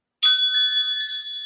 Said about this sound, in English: We'll call in spirit with some wind chime time.